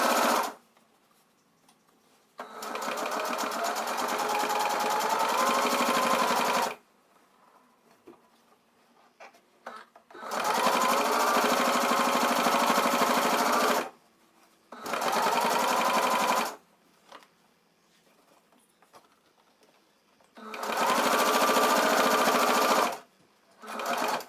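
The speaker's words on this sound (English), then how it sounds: "I'm using a 1/4 seam allowance for this stitch." A sewing machine stitches fabric scraps at a quarter-inch seam in four loud, steady bursts of several seconds each, separated by short pauses.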